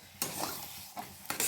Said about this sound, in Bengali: এইভাবে 5 মিনিট এইভাবে নাড়তে থাকতে হবে